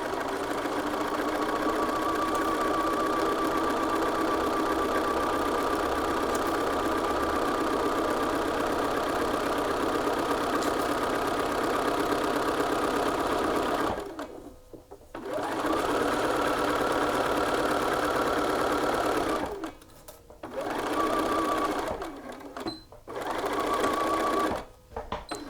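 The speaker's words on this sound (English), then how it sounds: "I just hand wheel 1, remove the pin, and then continue sewing." A sewing machine stitches side seams in long steady runs of fast, even whirring, close and loud, then stops briefly several times near the end as the needle is hand-wheeled and the work adjusted.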